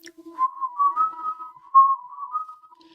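A voice imitates an eerie, wavering whistle said to come from outside a house at night, a thin sustained tone sliding up and down in a few drawn-out phrases, close and clear with no other sound.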